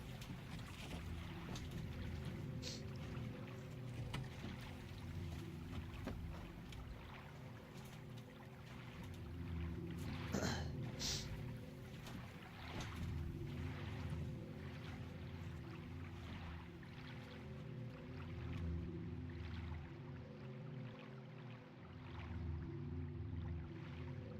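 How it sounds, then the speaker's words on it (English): Boat crossing a lake in the video game Silent Hill 2, heard as a faint, steady low rumble of water and motion with a continuous wash of wind-like noise and no talk. "getting on a boat, going over a lake."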